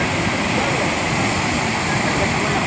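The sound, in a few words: Jamjir waterfall in Gir rushing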